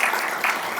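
Applause from a large plenary assembly audience, a steady dense wash of clapping filling the hall, sustained throughout with a slight swell partway.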